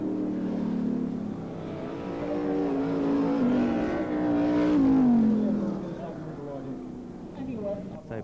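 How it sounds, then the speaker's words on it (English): A BriSCA Formula 1 stock car engine drones and revs as it runs toward the start-finish line at a 1992 race meeting in Gendt, rising and falling in pitch, while a commentator talks continuously over it. "Peter Pauling in car number 33 draws down towards the start-finish line"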